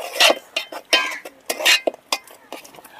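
A thick cashew and jaggery sweet mixture is stirred in a pot, giving repeated metallic scrapes and clinks from a utensil in an irregular rhythm, close and fairly loud, with no talk over it.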